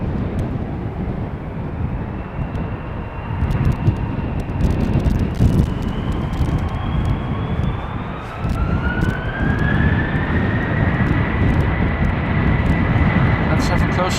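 Delta Airbus A330-200 engines at Schiphol airport, a steady loud jet roar with a slowly rising whine, heard continuously at some distance with wind and background noise.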